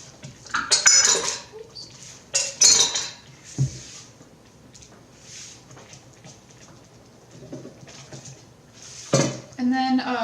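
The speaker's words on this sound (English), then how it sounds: "Just fold in the chocolate chips." Chocolate chips folded into pumpkin bread batter in a bowl, with intermittent clinks and scrapes of a utensil against the bowl between quieter stretches, and people talking in the background.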